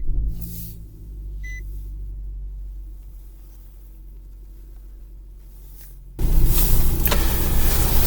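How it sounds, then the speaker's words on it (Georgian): A 2018 Nissan Rogue engine runs with a steady low rumble and no other sound, until a sudden loud broad rushing noise takes over for the last two seconds. "ნორმალურად მუშაობს ძრავი."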